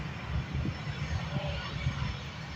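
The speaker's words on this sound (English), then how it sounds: "This Airbus A320 taxiing on by, ready to go to Rome" An Airbus A320 airliner taxiing at an airport, heard as a steady, broad jet engine rumble and hiss at moderate distance, continuous throughout with no talking.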